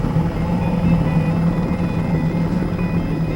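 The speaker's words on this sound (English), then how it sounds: "the helicopter races back to Sitka" Steady, close rescue helicopter noise from Air Station Sitka, with a low throbbing rotor rumble and a constant engine whine, no talking.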